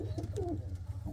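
A pair of pet pigeons coos softly and close by, a short burst of low throaty warbling with a faint murmur in the background.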